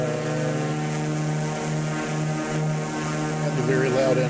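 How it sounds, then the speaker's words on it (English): A Mooney airplane engine runs loudly and steadily, a dense droning hum with a strong propeller buzz close by, unbroken throughout, with faint sounds near the end. "the very loud engine"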